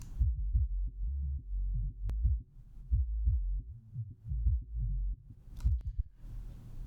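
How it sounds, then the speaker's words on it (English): Isolated sub-bass band of a song soloed through a multiband compressor in Ozone, cut around 100 Hz: deep, rounded low thumps pulsing in a steady rhythm, loud and close, with no mids or highs, ending in a brief sustained low rumble. "So the sub sounds like this."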